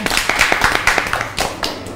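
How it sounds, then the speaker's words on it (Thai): Audience clapping on a Thai television variety show, a brisk run of hand claps for about two seconds, fairly close and steady, fading slightly toward the end. "ปรบมือหน่อย"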